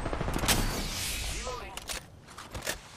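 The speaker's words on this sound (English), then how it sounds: "I am taking fire, friends" Gunfire in the battle-royale game Apex Legends, a dense fusillade of rapid shots with bursts near the start and scattered pops later, loud and close amid game noise.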